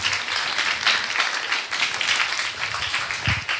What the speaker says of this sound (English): we can hear the clap for Bhagavatam. Somebody was clapping.